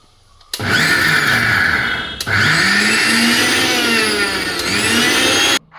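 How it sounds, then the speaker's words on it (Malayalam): A kitchen mixer grinder whirring through a small batch of cooked rice, loud and close, running in three bursts separated by brief pauses, its motor pitch shifting slightly as the load changes. "കുറച്ച് ചോറെടുത്തു അരച്ചു"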